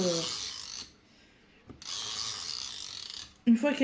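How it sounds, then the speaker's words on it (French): A glue tape runner rolled over scrap paper for scrapbook embellishments gives two short, close ratcheting rubs, with a quiet pause between them and a louder scrape at the end. "Avec de la souris colle."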